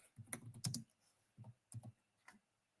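Clicks from a computer keyboard come in short uneven bursts of typing, quiet and close, with brief pauses between the clusters of keystrokes.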